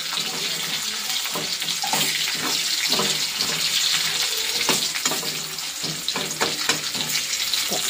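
Steady, loud frying hiss with crackling as lentils fry, broken by repeated scraping stirs against the pan; no voices.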